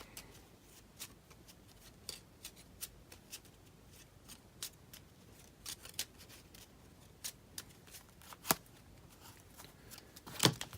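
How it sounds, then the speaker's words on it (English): A deck of cards for the Lord of the Rings: Journeys in Middle-earth board game is shuffled by hand, giving quiet, repeated riffling snaps and taps spread across a soft, near background. "So Gimli will shuffle his deck."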